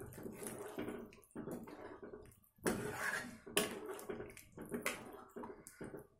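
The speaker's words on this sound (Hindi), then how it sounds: "बस आप इसको लगातार चलाते रहें।" A spoon scrapes and clinks against a pan while thick kofta curry gravy is stirred, in irregular bursts with brief pauses, close and fairly clear.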